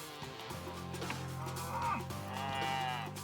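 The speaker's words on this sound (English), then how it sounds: "These cows know it's dinner time. They're fired up." Cattle on a farm moo at feeding time, several loud, drawn-out bellows overlapping near the microphone, rising twice in strong calls over a low steady hum.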